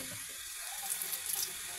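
Edible fern is washed under a running tap, heard as a steady close stream of splashing water with small irregular splatters as the fronds are rinsed. There is no speech.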